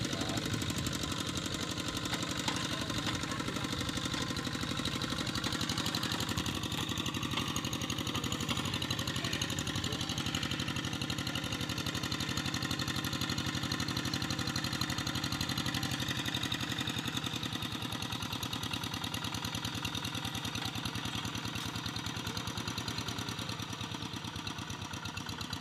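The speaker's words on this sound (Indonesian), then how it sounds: "ada orang lagi traktor sawah ya" A tractor engine working a rice paddy drones steadily and loudly throughout, a continuous rough mechanical hum with no pauses.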